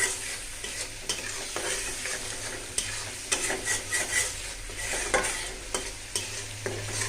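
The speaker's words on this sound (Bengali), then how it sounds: "আমি কিন্তু মাছটা ভালো করে কষাই নিতেছি," Shrimp stir-fried in a pan for a mixed-vegetable curry, a loud close hiss of frying broken up by repeated scraping and clattering strokes of a spatula, with no one talking.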